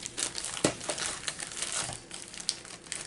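Crinkly plastic mailer crackling and rustling steadily as it is cut open, close and fairly quiet, with no talking.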